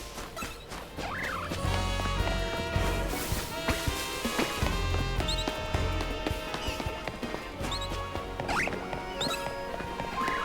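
Fletchling bird calls from the video game Pokemon Legends ZA: short chirping cries repeat over a dense, continuous layer of game music and effects.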